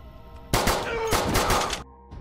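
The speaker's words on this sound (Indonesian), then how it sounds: "Disusul 1 orang lagi yang ditembak oleh Martinez" Film gunfight in a church as cartel members are gunned down: a dense, rapid volley of loud shots lasting over a second, then it cuts off to quiet background.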